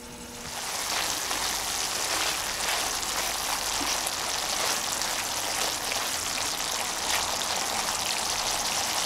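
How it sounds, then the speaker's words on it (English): Herring adobo sauce with coconut milk simmers under a lid, giving a steady, even hiss of fine bubbling and sizzling that rises in the first second and then holds constant. "cover this and let this simmer for 2 to 3 minutes"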